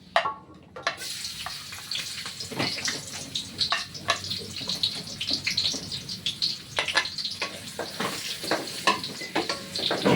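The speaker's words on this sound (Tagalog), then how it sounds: "Igisa na natin itong ating bawang." Garlic sautéing in oil in a pan, a steady close sizzle with crackling pops and occasional spoon scrapes, running throughout without talk.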